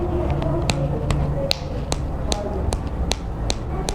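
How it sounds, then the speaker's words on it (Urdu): A woman's tasfiq: two fingers struck against the palm of the hand, producing a steady series of about a dozen crisp, evenly spaced claps, close and distinct over faint background murmur. "اپنے ہاتھ کی تلی پہ دو انگلیوں سے چٹکی مارے گی، ایسے چٹکی مارے گی ہاتھ پہ"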